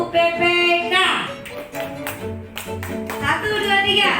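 A classroom group does the Indonesian tepuk PPK rhythmic clapping routine, sharp claps in a patterned beat mixed with loud chanting voices throughout.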